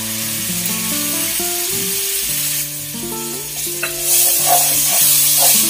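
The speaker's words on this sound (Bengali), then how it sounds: "মশলাটা বেশ ভাজা ভাজা হয়ে গেছে, তেল বেরিয়ে এসছে।" Spice mix of ginger, cumin, coriander, green chili and turmeric frying in oil, a loud steady sizzle with stirring scrapes and background music, no one talking.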